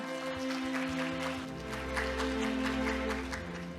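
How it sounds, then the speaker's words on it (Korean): Applause from an audience at a Korean academic award ceremony, a steady wash of clapping that runs throughout at moderate level over a low hum and a faint musical drone. "원장님을 여러분의 큰 박수와 함께 무대 위로 모시겠습니다"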